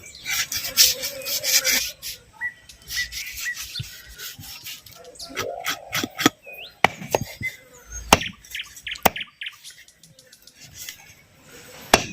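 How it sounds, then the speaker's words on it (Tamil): Horns and ears are cut from a goat head during a village-style mutton head preparation. Close, irregular scraping, rasping and chopping strokes come with sharp knocks and a few faint bird calls in the background. "இந்த கொம்பை வட்டிக்கிறேன் முதல்ல காதை வந்து வெட்டிக்கிறான்"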